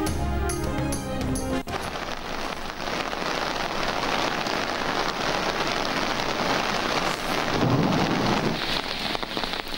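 Heavy rain pours steadily while thunder rumbles through it, dense and loud, after a brief musical sting at the start; the rainfall is reported in Muzaffarabad and nearby areas.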